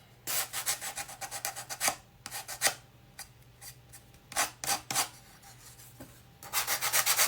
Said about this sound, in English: sand around the edges. And the corners to make it look a little bit more weathered and worn